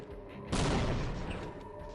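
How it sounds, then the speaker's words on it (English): A satchel charge and grenade go off together in Half-Life Blue Shift, one sudden loud blast that bursts in after a quiet moment and rumbles on, slowly fading with debris-like crackle. "A combination of a satchel charge and grenade allows me to fly decently far."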